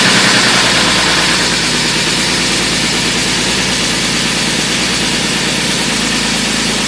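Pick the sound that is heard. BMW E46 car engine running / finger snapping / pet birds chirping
BMW E46 car engine running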